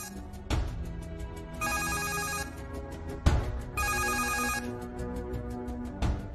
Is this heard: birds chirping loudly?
no